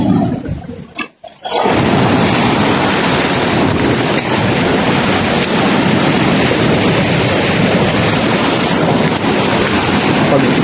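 Strong sea waves pound against a wall by a house, a loud continuous roar of surf and spray close to the microphone, with a brief dip early on before the crashing surges back.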